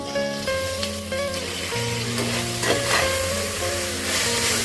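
Biryani masala paste frying and being stirred in a pan, a steady close sizzle with scraping stir strokes and tonal hum running through the few seconds, no talking.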